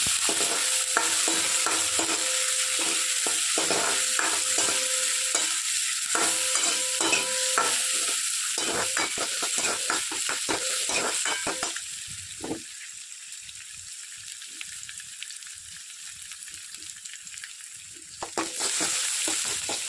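Garlic, onion and green chili frying in a pan, a steady sizzle with scraping stirs of a spoon, busier early on then quieter frying, no voices.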